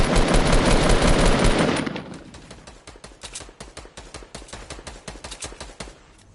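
Rapid gunfire in Fortnite: a dense loud burst for about two seconds, then a fast, regular string of sharp shots at lower level, no voices.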